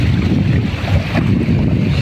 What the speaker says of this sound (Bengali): ওর আওয়াজটা নিশ্চয়ই শুনতে পাচ্ছেন, ঢেউটা খুব সমুদ্রের ঢেউর মতো ফিলিং করতেছে এই জায়গায়